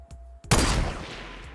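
Video game gunfire erupts as a sudden loud burst that rings out and decays into rumbling echo, close and alone after a brief quiet moment.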